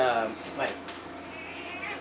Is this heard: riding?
no